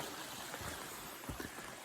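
A small stream tumbling down a little waterfall through the hills along the Rock Harbor Trail on Isle Royale, heard as a steady, soft rushing wash with no talk.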